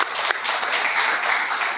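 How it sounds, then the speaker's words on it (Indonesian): A church congregation claps steadily in a sustained burst of applause, close and fairly loud, with faint voices mixed in. "Ya setuju tepuk tangan."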